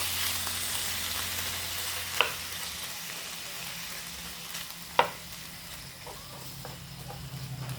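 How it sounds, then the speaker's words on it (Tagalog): Chicken fries in a pan with a continuous close sizzle, broken by two sharp utensil knocks against the pan and some light stirring scrapes, with no talk. "Iluluto ko muna yung chicken."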